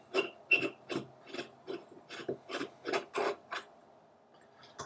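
A sturdy base being screwed onto a desktop video conference light gives a quick series of about a dozen close, rhythmic ratcheting scrapes and clicks, which then stop.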